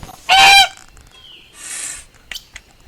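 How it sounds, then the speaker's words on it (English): A goose on a farm honks in a loud, harsh burst, followed a moment later by a second shorter honk and a couple of faint clucking squawks, heard alone without any talk. "Goose"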